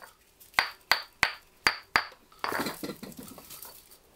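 Frozen-solid water bottles knocked together at a freezing winter campsite: five sharp, hard knocks in an even rhythm, close and clear, followed by a few seconds of rustling and handling noise.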